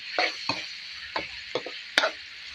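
Eel stir-fried spicy with basil in a pan, a steady soft sizzle with about five sharp scraping strokes of a spatula spaced unevenly across it.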